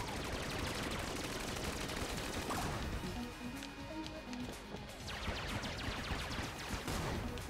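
Wind-up guns firing in Enter the Gungeon, dense rapid shots crackling continuously, easing briefly mid-clip with small chiming pickup tones, then resuming in quick bursts, no talk.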